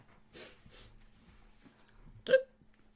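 A single sharp hiccup rises near the end, preceded by soft breathy murmurs and faint background noise.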